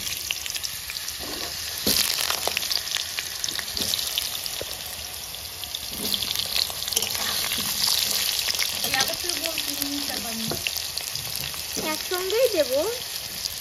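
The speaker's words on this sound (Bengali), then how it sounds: "আলুগুলো একটু আগে ভেজে নিই, তারপরে ফুলকপিটা দিয়ে দেবো" Potatoes sizzle steadily in a hot pan for a Bengali home-style fish curry with cauliflower, with stirring scrapes and a continuous frying hiss, while people talk over it later.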